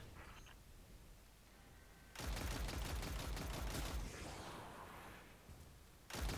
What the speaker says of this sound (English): You can use the machine gun to take them out.